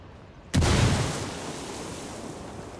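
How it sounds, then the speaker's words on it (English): A single loud, close explosion from the Ghost Recon Wildlands video game, likely a thrown frag grenade, bursts suddenly after a quiet moment and leaves a long rumbling, hissing decay with no talk. "Hear that explosion?"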